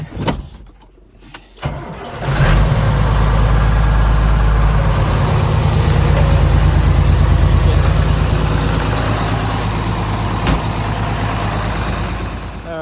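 A couple of faint knocks, then a tractor's diesel engine starts in the cold and settles into a steady, loud, close idle with a constant low rumble.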